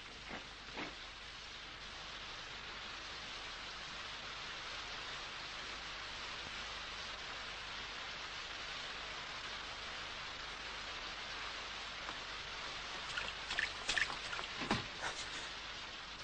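Steady rain falls with a soft, even hiss that runs unbroken throughout, faint and distant, with a few brief louder patters toward the end.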